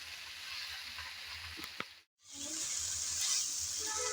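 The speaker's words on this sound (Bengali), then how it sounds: "একটু নেড়ে চেড়ে মিশিয়ে নিলাম" Fiddlehead fern greens fry in a pan while being stirred, a steady close sizzle with a brief clack and a momentary dropout before the frying hiss returns louder.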